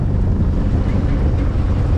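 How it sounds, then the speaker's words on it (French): Steady wind rising at a harbour at Cap d'Agde buffets the microphone with a low, constant rush, broad and unbroken throughout, with a faint hint of water underneath. "là il y a le vent qui commence à monter tout doucement"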